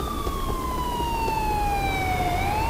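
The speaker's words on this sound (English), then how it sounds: "Oh yay, an ambulance came," Ambulance siren in Grand Theft Auto IV, a loud steady wailing tone that slowly falls in pitch and then rises again near the end, heard over a constant background rumble.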